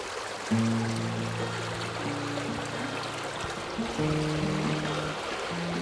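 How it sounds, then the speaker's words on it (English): Steady rushing of a fast, churning hill stream, with a low tonal hum rising and falling underneath. "The water is pretty much turbulent here"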